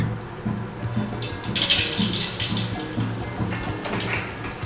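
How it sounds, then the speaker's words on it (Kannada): Mustard seeds dropped into hot oil for brinjal bartha fizz and crackle as a steady, close, rushing hiss that holds for several seconds without talking. "ಆಯಿಲ್ ಬಿಸಿಯಾಗಿದೆ, ಇವಾಗ ಸಾಸಿವೆನ ಹಾಕ್ಕೊತಾ ಇದ್ದೀನಿ."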